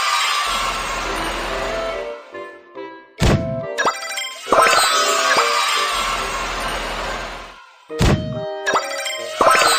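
A cartoon cannon fires in a children's animation: a sharp thunk followed by ringing, bright tones that fade, repeated three times over a few seconds with short silences between.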